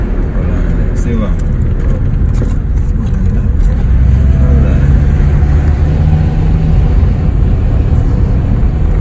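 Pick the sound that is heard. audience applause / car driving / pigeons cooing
car driving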